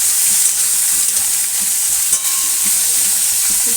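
Mixed winter vegetables such as eggplant, beans and radish with lentil dumplings being fried in oil with salt and turmeric, giving a loud continuous close sizzle with soft stirring scrapes.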